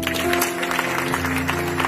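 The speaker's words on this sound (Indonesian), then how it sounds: "Tepuk tangan." A church congregation gives a brief round of even, steady clapping, set against sustained musical tones humming underneath.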